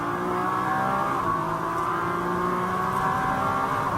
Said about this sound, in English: Listen to the throttle